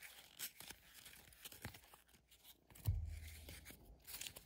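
Foil wrapper of a Topps Series 2 baseball trading card pack tearing open up close, a short crinkly rip followed by rustling and crumpling, quiet with no talking.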